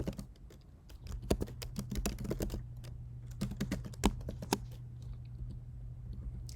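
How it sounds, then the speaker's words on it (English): Fingers type on a computer keyboard, pressing control and the spacebar while writing VBA code in Microsoft Access. Crisp, irregular keystrokes come in close, quiet bursts with short pauses between them. "holding control and hitting spacebar"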